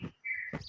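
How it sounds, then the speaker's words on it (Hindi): A bird chirps outdoors on a pleasant morning, giving one sustained whistled note between short chirps, close and moderately quiet, with no talking. "और हर तरफ परिंदों की चहचहाती आवाज़ें बहुत मज़े की।"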